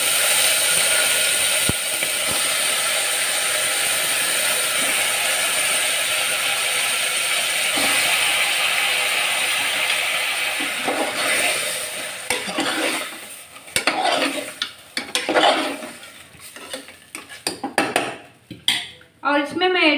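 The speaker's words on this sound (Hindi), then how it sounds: "इसमें मैं ऐड कर दूंगी ये मटन के पीसेस।" Mutton pieces tipped into browned fried onions in a pan, a steady sizzle followed by metal spoon scraping and stirring clatter, close and fairly loud.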